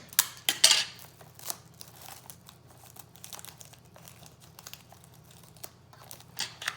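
A plastic sheet crinkles and rustles while being taped down over a solar still, in soft, intermittent crackles with a few sharper crisp bursts.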